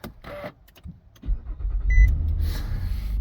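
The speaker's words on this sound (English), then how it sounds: "And now proceed inside the vehicle and start it." A Nissan Murano starts up: a couple of short chimes and clicks, then the starter cranks and the engine catches into a steady close idle with a low rumble, no talking.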